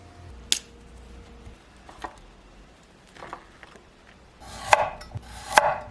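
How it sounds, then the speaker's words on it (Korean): A kitchen knife cuts broccoli into small florets, giving a few sharp, sparse chops and snaps on a board with quiet gaps between them, close and fairly soft. "브로콜리는 작은 꽃송이로 자르시고요."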